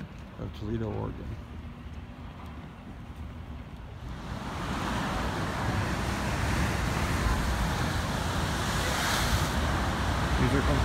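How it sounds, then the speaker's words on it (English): Ocean surge at the rocky spouting horns of Depoe Bay on the Oregon coast builds into a broad, rushing roar as water forces through the rock openings. Wind buffets the microphone. "Where the water comes through tunnels in the rocks. And it explodes through openings similar to a volcano."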